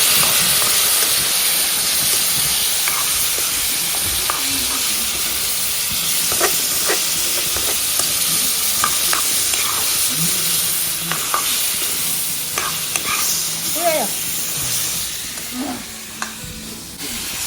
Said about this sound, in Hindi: वाह गया ये तेल में